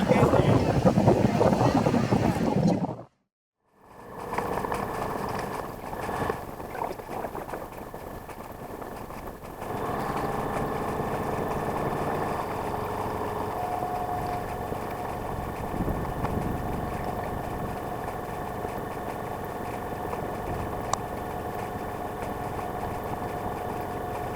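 A sailing boat motors out of Shotley harbour under engine, its steady low hum running throughout, with heavy wind buffeting the microphone at the start before a brief dropout.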